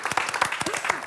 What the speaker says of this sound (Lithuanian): Vaikai, tai gal pakvieskime viešnė plojimais?